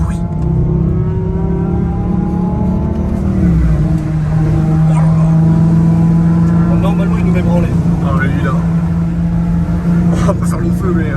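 A Dodge Charger R/T engine roars steadily and loud from close behind on a Los Angeles road, a deep sustained drone that shifts pitch briefly, with people talking excitedly over it throughout.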